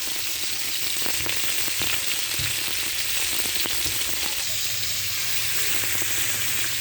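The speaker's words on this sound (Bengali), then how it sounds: "পরিমাণ মতো লবণ, হলুদ আর শুকনো মরিচের গুঁড়া দিতে হালকা দিয়ে ভেজে নিচ্ছি, কিন্তু খুব বেশি কড়া করে মাছটা আমি ভাজবো না" Live magur catfish frying lightly in oil with salt, turmeric and chili powder, a constant dense sizzle and crackle filling the clip at close range with no talking.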